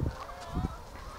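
A free-range hen on an outdoor run gives a few short, honking squawks close by, with quiet pauses between them.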